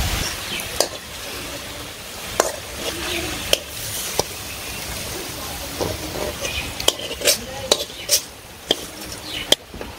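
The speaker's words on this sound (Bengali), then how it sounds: "দিয়ে দিন সবজি ভালো করে কষিয়ে নিচ্ছি" Vegetables for a village-style vegetable khichuri sautéed in a pan: steady soft sizzle under repeated scraping stirs, with several sharp spoon clacks against the pot, close and moderately loud.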